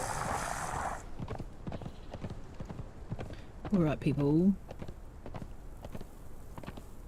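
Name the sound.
horse hooves clip-clopping in a video game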